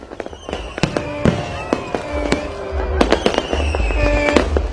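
Fireworks and firecrackers going off, with sharp bangs and pops scattered irregularly, some near and loud, others farther off, over a low background rumble and faint whistling.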